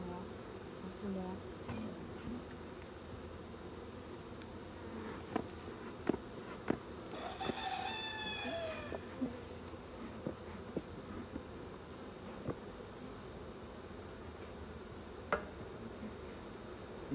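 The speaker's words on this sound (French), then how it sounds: "des abeilles dans la nouvelle ruchette" Honeybees shut inside a closed nucleus hive give a continuous buzzing hum, close and steady, broken by a few short knocks and a brief rising whine near the middle.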